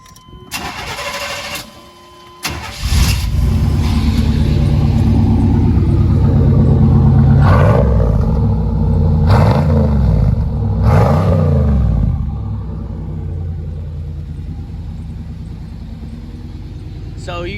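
A 1988 Chevy Silverado pickup's engine cranks and fires up, then rumbles loudly through its new dual exhaust with several throttle blips before settling into a deep idle, close by; brief voices come in near the start.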